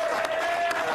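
A brief burst of crowd applause used as a sound effect, clapping at a steady level for about a second.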